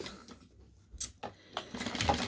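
A sewing machine stitches down a pleat on a surgical wrap face mask, giving a short, quiet burst of mechanical whirring that picks up toward the end.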